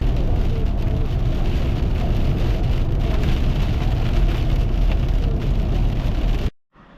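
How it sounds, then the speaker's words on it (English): Heavy rain drums steadily on a car's roof and windows, a loud continuous patter that cuts off abruptly at the end. "As you can see, it was raining pretty good."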